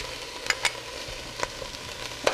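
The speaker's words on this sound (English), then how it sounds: "Our onions are sizzling and softened, and now it's time to add the garlic." Onions and garlic sizzle in butter in a pan, a steady close crackling hiss broken by a few sharper pops and stirring clicks.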